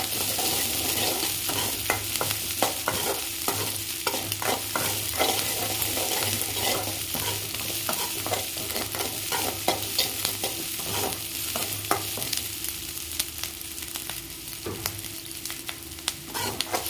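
Onions and meat for pepper chicken fry sizzle steadily in a pan, with frequent scraping and clinking stirring strokes against the metal running throughout, close and moderately loud, with no talking.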